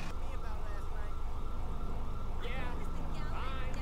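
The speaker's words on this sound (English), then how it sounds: "It is that car, but the siren won't turn off" Police car siren in GTA 5 wails steadily through the short stretch, with rising and falling tones near the end, under game traffic and car engine noise, with a voice speaking over part of it.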